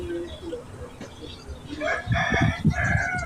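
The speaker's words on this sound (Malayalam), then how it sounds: "ഒരുപാട് നാടൻ കോഴികളും" A rooster crows at a live chicken shop in Sharjah among country hens, a loud nearby cock-a-doodle-doo in the second half, with faint clucking and some indistinct voices earlier.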